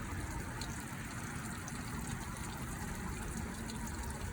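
Steady close water flow while watering a potted Japanese black pine being repotted from an air-layering in spring, a continuous gushing pour with no break.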